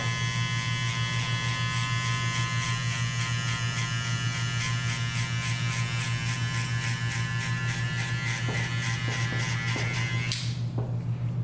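Electric hair clippers buzz steadily and close throughout while fading hair, a constant droning hum with slight changes in tone as they move, then briefly shift near the end; no talking.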